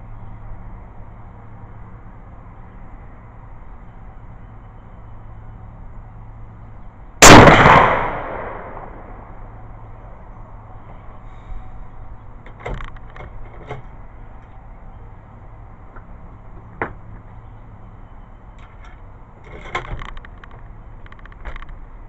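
A CZ USA rifle fires one sharp, loud report outdoors that decays quickly into a quiet background, followed by faint scattered clicks and handling noises.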